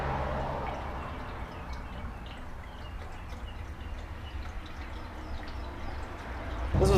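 VP race gas trickles from a 5-gallon race gas tank into a Dodge Hellcat's filler, a faint, steady pour with soft dripping that swells slightly at the end.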